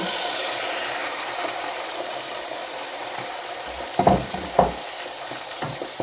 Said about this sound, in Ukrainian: Тут у мене на сковороді олія і трішки смольцю додала. Висипаю печінку.